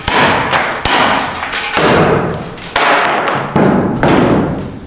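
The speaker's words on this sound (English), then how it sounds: "you just bust it off with your hammer" Heavy hammer blows strike cast iron about six times at an uneven pace while busting it off during a kitchen floor rebuild, each a loud close thud with a ringing, scraping decay.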